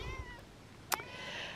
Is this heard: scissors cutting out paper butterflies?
no